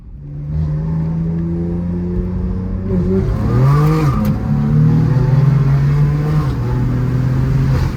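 A tuned 2020 BMW M2 Competition on a dyno revs hard and close, its engine holding a loud sustained drone that rises and dips in pitch over several seconds, with no voices.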